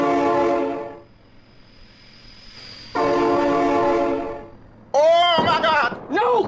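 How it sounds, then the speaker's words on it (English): A train horn in the BeamNG.drive driving game sounds two long, loud, steady blasts with a gap between them, followed by a voice shouting in alarm. "Oh my god, train!"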